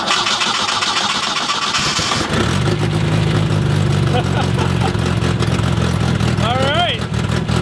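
After an engine swap, a diesel fitted with a Ford HE351 turbo cranks and then catches. It settles into a loud, steady, close rumbling idle, and voices talk over it near the end.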